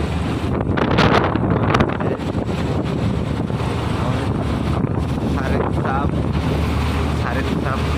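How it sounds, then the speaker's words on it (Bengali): Boat moving on water in strong wind, with heavy wind buffeting the microphone and a broad continuous rush of water and wind, louder gusts early on. "সারের চাপ কিভাবে কন্ট্রোল করে নৌকোটা চালাচ্ছে দেখুন"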